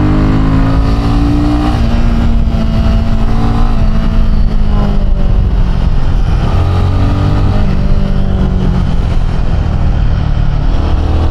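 A Royal Enfield Himalayan 450 motorcycle's engine runs loud and close while the bike is ridden, giving a continuous throbbing drone with shifting pitch as the rider rolls the throttle on and off. Wind rushes underneath, and no one speaks.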